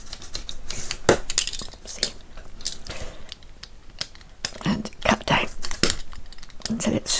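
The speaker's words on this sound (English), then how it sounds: "I'm just going to go across with my knife." A knife sawing across a toy toffee apple gives close, uneven scraping and crunching strokes, with a voice talking over them at times.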